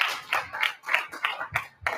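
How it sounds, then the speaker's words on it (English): An audience at a Los Angeles Chargers fan event claps for a panel guest. The applause is scattered, uneven and fairly faint, in short bursts with no talking. "Everybody, round of applause for Pappy."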